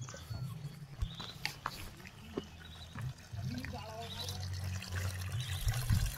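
Spring water from a traditional stone naula spring in a mixed mountain forest in Uttarakhand splashes and trickles into a container, a steady close pour with low gurgling under brief stretches of a man's speech.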